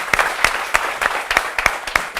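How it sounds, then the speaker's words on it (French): Audience at a comedy show competition quarter-final claps in loose, uneven bursts, a close, lively crowd applause with sharp individual hand claps standing out over the steady patter. "le public a envie de vous encourager par des gros applaudissements"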